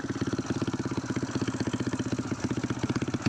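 Motorcycle engine held in first gear on a mountain road, a steady mid-pitched throbbing with fast regular firing pulses, loud and close throughout with no talking.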